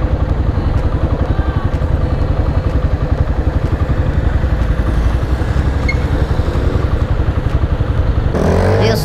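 A motorcycle rides through a traffic light at a city intersection in Poços de Caldas, its engine chugging in a fast, regular loud pulse close by, with faint traffic behind and a brief clatter at the end.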